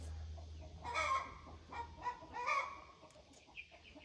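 Wyandotte chickens cluck softly in their pen, a few short bursts of cackling close by over a low background hum, with no talking.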